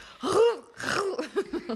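A voice mimics video game creature coughs and sneezes: a sharp gasping burst, then a run of short, rhythmic hacking sounds, close and fairly loud.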